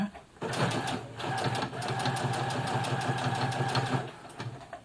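A Brother FS60X sewing machine stitches through a nine-layer jeans hem at stitch length 4, a close, steady rapid mechanical whirring with fast rhythmic needle clatter that runs continuously for about four seconds, starting and stopping abruptly.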